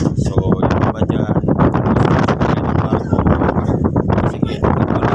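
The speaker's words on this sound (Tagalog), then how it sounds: "kalakas ng hangin." Strong wind buffets the microphone on the open deck of a passenger ferry, loud gusty rumble with a person talking over it throughout.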